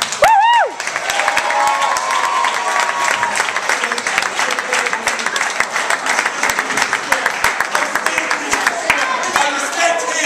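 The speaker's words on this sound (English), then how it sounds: "Round of applause for Sean Zell" Loud, dense applause and cheering from a crowd at a Scottish wrestling show for wrestler Sean Zell, a sustained wash of clapping with whoops after an opening shout.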